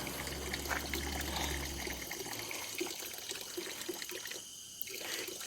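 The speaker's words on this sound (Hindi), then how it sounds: "इसमें नेचुरली ये पानी इकट्ठा होता रहता है और कभी भी आप आके पी सकते हैं. Running water." Natural spring water seeping from tree roots collects and trickles at a forest rest house in Corbett. It makes a steady, soft, continuous flow with no talking.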